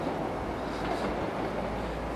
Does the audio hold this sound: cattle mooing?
no